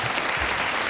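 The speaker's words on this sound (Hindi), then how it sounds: "आसिम महमूद के लिए बहुत सारी तालियां" Dense, steady applause from a Pakistani TV studio audience at the Independence Day show fills a brief moment, loud and close throughout.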